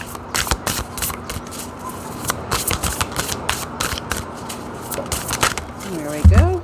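Shaman's Dream Oracle cards riffled and shuffled by hand, a series of quick papery flutters and snaps in irregular bursts, close up, ending with a louder thump as the deck is set down.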